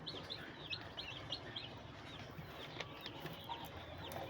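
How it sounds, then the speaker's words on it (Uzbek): Andijan black chickens cluck and chirp softly at a distance over a steady background hum, giving short repeated calls with no speech. "Aytgancha bu Andijon qora tovuq chiqqan"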